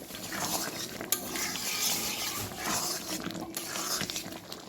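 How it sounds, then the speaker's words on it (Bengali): A spoon stirs white potato curry with ghee in a pan, giving a soft, steady scraping and gentle sizzle, faint and continuous with no talking. "এবার একটু নেড়ে দেবো।"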